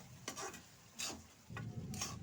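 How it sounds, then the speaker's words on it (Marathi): A spoon scrapes and stirs a watermelon-rind tutti frutti mixture in a few separate strokes, soft and close in a quiet kitchen. "मिक्स करून घेऊयात।"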